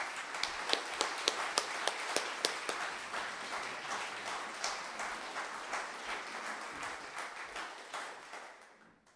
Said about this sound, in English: can we please give a big round of applause to Mahmoud Zawahra